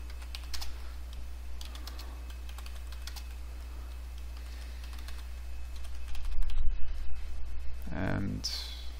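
Typing on a computer keyboard, light scattered key clicks at close range under a steady low hum, with a louder burst of noise and a voice near the end.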